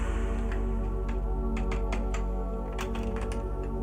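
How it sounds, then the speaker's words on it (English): Quick keyboard key clicks tap irregularly over a steady musical background, close and fairly crisp. "Keyboard ASMR time."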